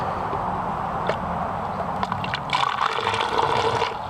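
Water poured into an old car battery, a continuous close trickling and gurgling fill that grows busier and splashier toward the end, with no talking.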